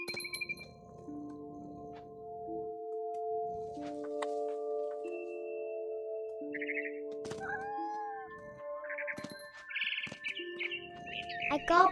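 Game birds chirp and tweet in What Remains of Edith Finch, with cat-like meows and calls mixed in over a steady ambient hum, close and moderately loud.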